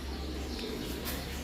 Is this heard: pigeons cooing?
yes